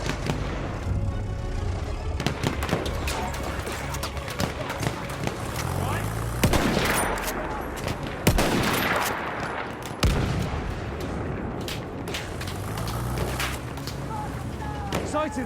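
An enemy artillery barrage in the game Battlefield 1 pounds away with repeated booms and crackling gunfire, dense and continuous, with a voice talking over the battle.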